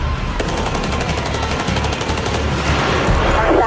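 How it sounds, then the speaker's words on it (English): Heavy sustained automatic gunfire during the 1997 North Hollywood bank shootout, a loud dense rattle of rapid shots with no pause, close and harsh throughout. "Shots are still being fired to the rear of the bank."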